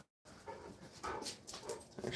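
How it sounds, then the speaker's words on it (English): Dogs whimpering and whining, frightened by fireworks, with short high cries and panting in quick uneven bursts at low volume after a brief silence. "There's the dogs. They're freaking out about fireworks already"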